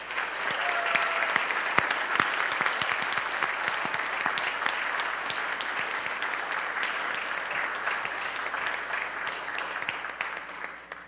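A room full of people at a retirement ceremony claps in sustained applause, dense and steady throughout with no break.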